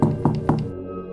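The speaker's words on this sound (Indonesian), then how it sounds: "terdengar ketukan keras di pintu rumah" Three loud, hard knocks land on a wooden house door in quick succession, each a dull thud, followed by a low lingering hum.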